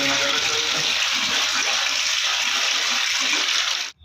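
Loud, steady gush of running water splashing in a hotel bathroom, continuous and close, cutting off abruptly at the end.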